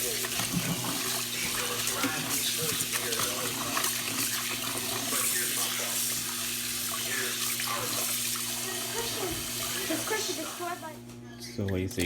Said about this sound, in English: Then I'm gonna soak it and throw away the water, and then do it again.